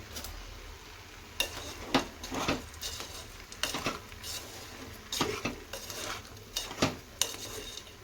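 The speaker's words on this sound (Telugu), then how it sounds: "బెల్లం మొత్తం మెల్ట్ అయ్యేంత వరకు కలుపుకోవాలి" A spoon stirs grated jaggery melting in a pan for nethi bobbatlu, with repeated scraping clinks against the metal in uneven bursts over a faint low sizzle, close by and without speech.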